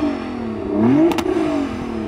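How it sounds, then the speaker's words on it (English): A Nissan GT-R NISMO engine revs up sharply once, the pitch climbing then falling back to idle, loud and close. "Hey Jürgen, go on, rev up your car."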